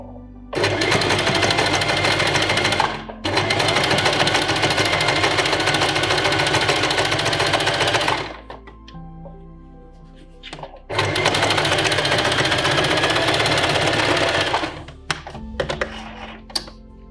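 A domestic sewing machine stitches a fabric seam in two long, loud, steady runs of rapid whirring, separated by a pause with faint handling noise and a brief final burst.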